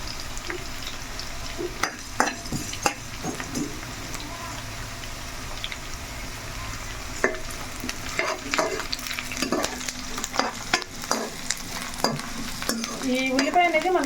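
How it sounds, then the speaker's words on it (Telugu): Chicken with dry coconut fries in a pan, a steady close sizzle under repeated scraping and clinking strokes of a spoon stirring it. "బాగా వేగాలి ఇంకొంచెం కలర్ రావాలండి"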